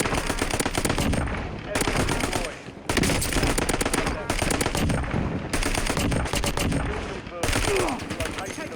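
Repeated bursts of XMR rifle fire in Call of Duty on Rebirth Island, several loud rapid volleys separated by brief pauses, with a voice talking over the shooting.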